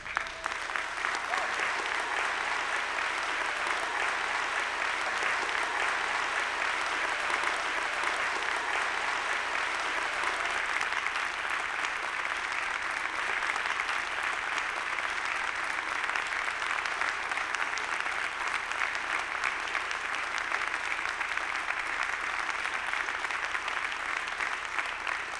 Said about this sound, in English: allow us to recognize you with our applause